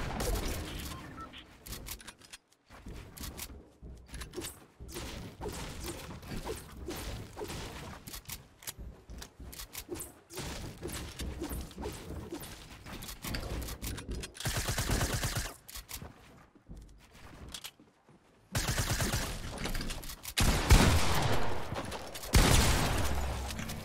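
Gunfire hitting the player in a one-on-one video game arena match: rapid bursts of shots, some in automatic strings, come in repeated clusters broken by short silent gaps, moderately loud throughout.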